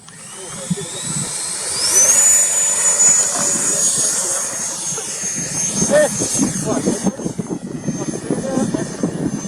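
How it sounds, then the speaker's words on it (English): Freewing F-16 90mm electric ducted fan model jet taking off, its high whine rising and staying loud and close, with a pitch sweep as it passes; people talk over it outdoors. "F-16. Take off!"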